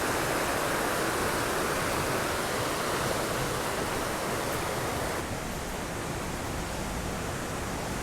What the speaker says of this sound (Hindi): तो सामने हमें दिख रहा है बाहुबली वाटरफॉल, काफ़ी बढ़िया दिख रहा है यहाँ से।